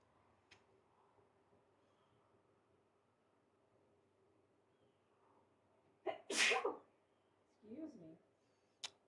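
A single sharp sneeze bursts out close and loud after a quiet stretch, followed by a brief murmur of a voice and a soft click.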